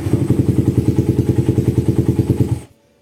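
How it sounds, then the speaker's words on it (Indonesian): A Suzuki Satria FU motorcycle engine, fitted with a camshaft lacking decompression, is turned over with a double electric starter, giving a fast, even train of loud, close thumps before it cuts off abruptly into near silence. "Noken as in nggak ada dekomnya, double starter tetap jreng."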